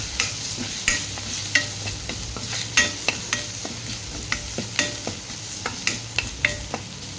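Ginger fries in a little oil in a pan with a steady sizzle, while a utensil stirs and scrapes in repeated, irregular clinks close by.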